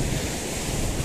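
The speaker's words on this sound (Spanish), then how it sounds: "No sé si se escuchará algo por el viento" Strong wind buffets the microphone on a beach on the Argentine coast, a loud, constant roar with surf mixed in and no speech.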